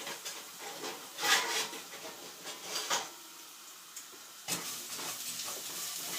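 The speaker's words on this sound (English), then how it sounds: "kind of move the garlic around a little bit" Garlic sautés in a hot pan while being stirred and moved around, giving a steady soft sizzle with brief scraping bursts of the spoon, close and alone without talk.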